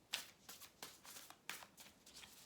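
Quiet tarot card shuffling, a series of soft riffling bursts repeating at a steady pace, close and gentle with no voices.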